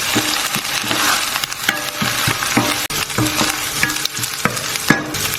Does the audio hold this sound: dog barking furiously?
no